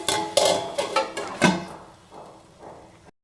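Metal pot lid set down over ridge gourd coconut curry on the stove, a few sharp clanks and rattles close up, fading into quieter low scraping at the end.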